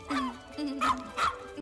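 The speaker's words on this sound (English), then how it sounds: "Is it a dog?" Small cartoon dog from the 2005 Tim Burton animated film Corpse Bride gives a few short yipping barks, fairly close and moderately loud, with film dialogue around them.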